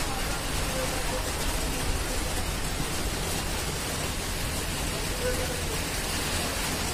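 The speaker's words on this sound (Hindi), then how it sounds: "ये जो आवाज आ रही है ऊपर, ये जो टिन का लगा रखा है ना ये उसमें आ रही है ज्यादा आवाज" Steady, dense rain drumming on a tin roof overhead, a continuous hiss with no pauses, fairly loud throughout.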